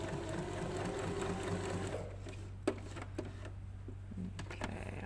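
A sewing machine zigzag-stitches an applique sample at width 3 and half length, a fast steady mechanical whir close by that stops about halfway, followed by a few light clicks.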